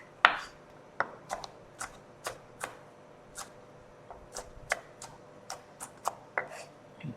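Onions, garlic and ginger being finely chopped with a knife on a board: about a dozen separate, crisp taps at an uneven pace, close and fairly quiet, with no talking.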